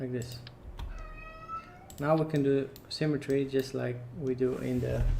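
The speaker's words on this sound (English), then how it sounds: "I think that's a cat in the background." A cat meows several times in the background, short whiny cries at uneven intervals, while someone talks over it and computer keys clack softly.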